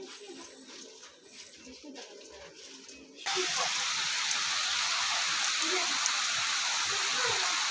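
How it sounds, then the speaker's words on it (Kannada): Heavy evening rain outside a village house: a quieter stretch with faint background sounds, then a loud, dense, continuous rush of rain sets in and holds steady. "ಸಂಜೆ ಟೈಮ್ ಮಳೆ ಕೂಡ ಜೋರಾಗಿ ಬರ್ತಾ ಇದೆ ಹೊರಗಡೆ"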